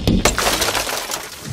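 Window glass breaks as a creature smashes it, giving a harsh, loud crash with sharp cracking bursts at the start and scattering noise that trails off over about a second.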